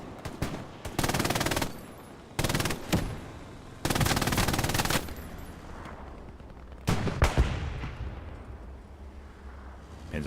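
Machine gun fire in the video game Hell Let Loose, on an open landscape, comes in several loud sustained bursts separated by short pauses, with a lingering rumble and scattered further shots.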